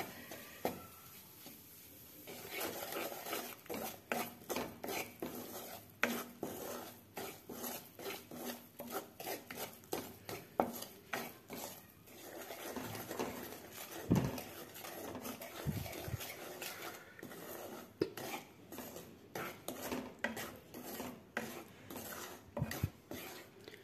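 Gram flour (besan) roasts in a pan while a spoon stirs it, making repeated close scraping and rasping strokes in an uneven rhythm that continues throughout.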